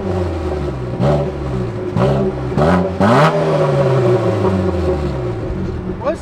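A Renault Clio 2 RS engine fires up and revs in several sharp blips, the pitch rising and falling over a steady idle, loud and close, with some voices in the background.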